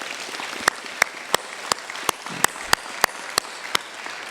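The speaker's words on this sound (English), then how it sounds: "So a quick round of applause to all the training staff." Audience at a fire department recruit academy graduation applauding the training staff, with sharp, evenly spaced single claps standing out over light crowd clapping.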